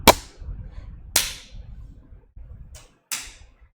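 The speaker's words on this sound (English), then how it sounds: "This is a pen. I hit it here." A pen is struck several times, giving sharp, dry clicks: two clear hits close together, then a fainter tap and one more hit, spaced irregularly over a low background rumble.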